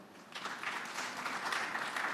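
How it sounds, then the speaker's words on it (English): An audience applauds during a panel session at a business forum and exhibition in Nairobi, Kenya; the clapping is steady, dense and fairly distant, rising slightly after a soft start and continuing throughout. "Let's clap for Daktari."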